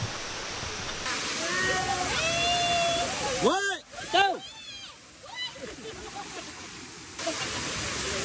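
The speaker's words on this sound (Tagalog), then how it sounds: "Kambugahay Falls at Sikihor guys." Kambugahay Falls on Siquijor roars as a constant broadband wash of falling water, loud and close throughout, while people shout and talk excitedly over it with splashes in the middle.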